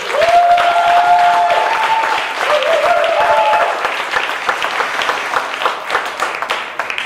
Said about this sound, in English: join me in giving 100 UE another round of applause